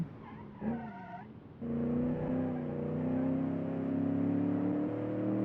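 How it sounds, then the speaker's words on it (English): After a brief higher whine, a deep V8 engine settles into a steady, throaty rumble that holds strong and close for several seconds. "Who doesn't love a V8 rumble?"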